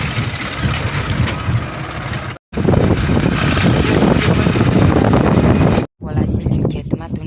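A tractor engine idles in a ginger field, a steady close rumble mixed with wind buffeting on the microphone. Two brief dropouts interrupt it, and someone talks over it.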